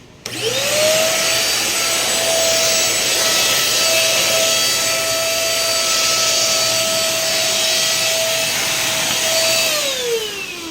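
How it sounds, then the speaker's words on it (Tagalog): A vacuum cleaner whirs steadily at close range for about ten seconds, with a high motor whine that ramps up at the start and winds down at the end. "Katulad niyan, vacuum."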